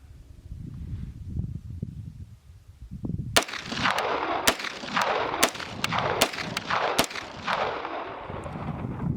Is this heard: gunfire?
yes